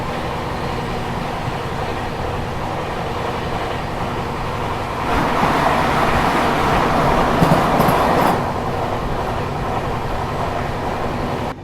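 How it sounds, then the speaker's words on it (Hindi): The Bikaner Express runs at about 130 km/h, a steady, close rumble of wheels on rail with an even roar that swells louder for a few seconds midway before settling back to a constant drone. "गाड़ी अपनी फ़िलहाल 130 की रफ्तार में भाग रही है।"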